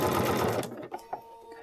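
Sewing machine stitching foundation paper piecing, a loud rapid whirring run for about half a second that cuts off, followed by a few faint soft knocks.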